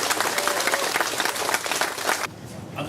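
A crowd at a tabletop wargaming event claps loudly for the event team, dense and sustained applause that cuts off abruptly near the end, leaving a quieter room murmur.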